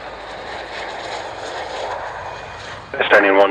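Aircraft landing on runway 27 at the Royal International Air Tattoo 2014: a steady, loud engine roar rolls past, then a radio voice cuts in over it near the end.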